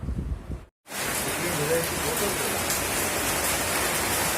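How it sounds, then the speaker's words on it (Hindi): Evening rain falls outdoors in a steady, close hiss that fills the scene after a short cutoff near the start, with no clear breaks or individual drops. "फिर बारिश आ गई है अभी"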